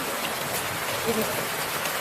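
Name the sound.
heavy rain falling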